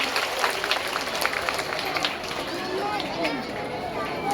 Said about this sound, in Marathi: एकदा पुन्हा जोरदार टाळ्या आहे सर्व बालचमूंसाठी